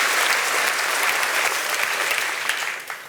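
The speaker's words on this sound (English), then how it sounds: "A cheer for the Olympics." A crowd bursts into sustained, dense applause and cheering for the Olympics, loud and close, then tapers off slightly near the end.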